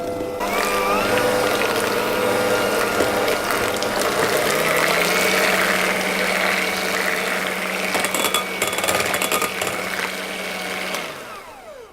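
An electric mixer beats eggs for coconut biscotti, whirring loud and steady for about eleven seconds, with a slight drop in pitch partway through, then stopping at the end.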